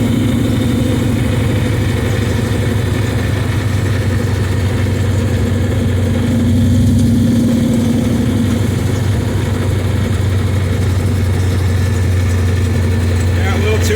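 A big block Chevy engine topped with a tunnel ram idles in a 1929 Model A, a steady, loud low rumble running the whole time with a slight swell midway.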